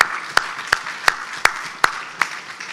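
Clients are applauded at a company's annual general meeting with a slow, steady beat of distinct claps, about three per second, each sharp and evenly spaced over a faint room background.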